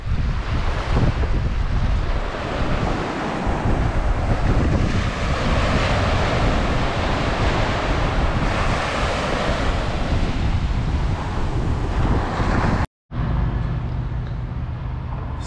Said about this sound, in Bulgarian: Хубави океански вълни.